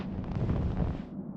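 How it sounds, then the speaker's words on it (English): A game explosion from Secret Files: Tunguska, blowing up a penguin on a snowy slope: a broad, steady low rumble that holds for over a second, then thins out as the top end drops away. "Wow, that scared me. An explosion."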